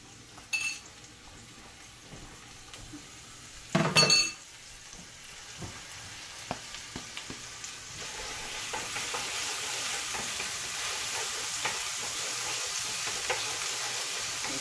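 Chopped garlic fries in a little oil in a pan with a steady, close sizzle, broken near the start by a few loud clinks and scrapes of a utensil stirring against the pan; no one speaks.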